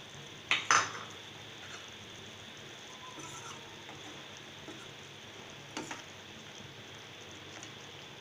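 Sautéed brinjal goes into a pan of simmering oil-rich ennai kathirikai kuzhambu: a couple of sharp metal clinks of a spoon against the pan up front, then a quiet steady sizzle with a few soft scrapes of stirring, no talk.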